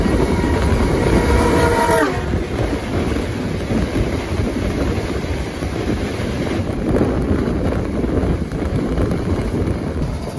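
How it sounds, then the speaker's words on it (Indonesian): A passenger train, the Ranggajati, rumbles past close by with a dense, steady roar of wheels on rails, wind buffeting the microphone throughout. "Berpapasan dengan kereta api Ranggajati dari stasiun Jember tujuan stasiun Cirebon."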